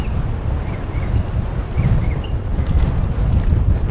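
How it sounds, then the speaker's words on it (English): Steady wind buffeting the microphone of a scooter rider riding through Cambridge, Maryland, a continuous low rumble and rush lasting throughout with no speech. "We're facing a wind right now."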